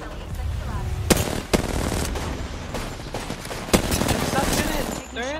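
Automatic weapon fire from the Apex Legends video game, an R-99 and a Wingman, in dense continuous bursts with several sharp, loud shots standing out.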